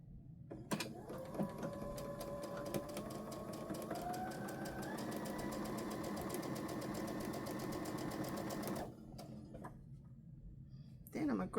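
Sewing machine stitching quilt block pieces in a continuous fast whir that rises in speed partway through and runs several seconds before stopping, with faint clicks at the start and end.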